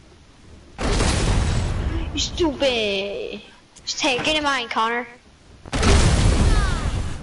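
Cannon firing in Fortnite: two loud, broad booming blasts, one near the start and one near the end. Players talk excitedly in the middle.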